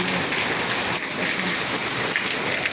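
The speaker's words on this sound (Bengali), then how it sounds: "মাশাআল্লাহ অনেক বৃষ্টি হচ্ছে অনেক" Heavy rain pours down steadily in a dense, unbroken hiss on a stormy day, loud and close throughout with no voices.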